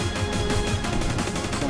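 Fireworks burst in a VR rollercoaster ride game, a dense crackling barrage of rapid pops that fills the short clip with loud, continuous noise.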